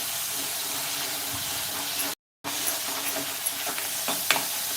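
Onion paste sautéing in a pan for a Maharashtrian brinjal-potato curry sizzles loudly and steadily up close, with a brief dropout midway and a few stirring scrapes.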